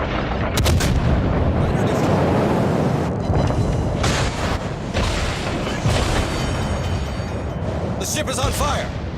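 A torpedo strikes a ship in a naval battle game, setting off heavy booming explosions and rumbling gunfire. The blasts are loud and continuous, and people talk over the roar.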